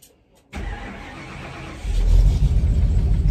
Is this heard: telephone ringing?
no